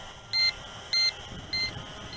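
Three short, clean electronic beeps from a GPS quadcopter drone returning home, evenly spaced about half a second apart, fairly faint over a soft background hiss.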